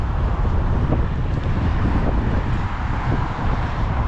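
Cold wind blowing steadily outdoors in Canada, a loud, continuous broadband rush buffeting the microphone for the whole stretch, with no voices.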